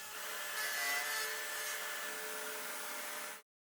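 Steady, continuous power-tool whine with a rough cutting texture as a router cuts hinge recesses in a wooden door using a hinge jig, running without a break until it cuts off abruptly near the end.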